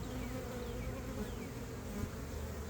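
A small swarm of honey bees buzzing steadily around a hive box, a dense continuous drone with individual bees zipping past close by, no voices.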